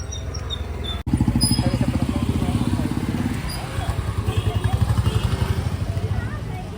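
A motorcycle engine thrums in a steady low pulsing putter close by at the start of a ride in Kerala, with a brief dropout early on before the rhythm continues.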